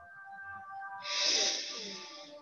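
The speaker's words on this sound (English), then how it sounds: "So just take another deep breath." A single slow, deep breath drawn during a guided relaxation session, a soft airy inhale swelling into a fuller rushing exhale, close and moderately loud over a faint sustained tone in the background.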